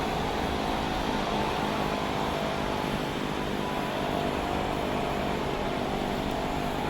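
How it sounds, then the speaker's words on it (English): Small twin-engine Cessna 310 taxiing in to the ramp, heard from another aircraft's open window: a steady, continuous engine and propeller drone with broadband wind-like noise, moderately loud and unbroken, no voices. "Let's open our window up so we can listen to the wonderful sounds this airplane has."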